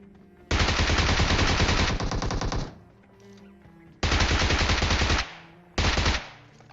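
Rapid automatic gunfire in the shooter game PUBG comes in three loud sustained bursts, the first about two seconds long, separated by short quiet gaps.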